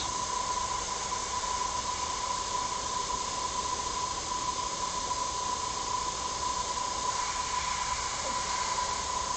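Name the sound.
airbrush spraying paint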